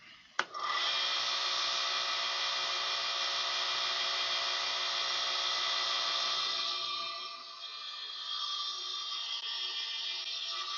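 Hand sanding with 800 grit abrasive on a bird's eye maple and mahogany pen, a close, steady rasping hiss that runs continuously and eases slightly toward the end.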